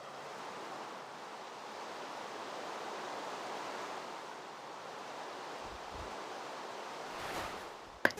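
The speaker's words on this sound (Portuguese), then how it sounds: "Tem efeito de vento enquanto chove" Rain falling with wind gusting in Minecraft Bedrock running shaders, a steady, even wash of hiss that holds throughout and ends in a brief sharp click.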